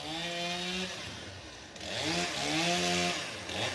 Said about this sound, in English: Might get a little noisy. They're cutting down trees over there.